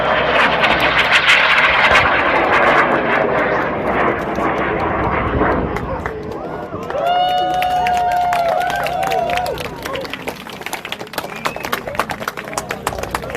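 A small rocket's motor roars from ignition through launch, a loud broadband rushing roar that fades as the rocket climbs away, then gives way to distant cheering and voices from the team on the ground.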